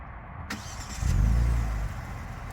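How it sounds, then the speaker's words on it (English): A 2026 Genesis G70 3.3 Sport Prestige started remotely by key fob: a sharp click, then the engine cranks and catches with a loud low rumble that swells briefly before settling into a steady idle close by. "if you want to remote start the car from your key fob"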